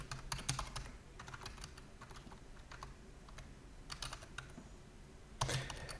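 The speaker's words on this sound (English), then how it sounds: "Type in a username." Username being typed on a computer keyboard during setup of a Windows 10 virtual machine on a Mac, with quick bursts of close, crisp key clicks separated by short pauses and no talking.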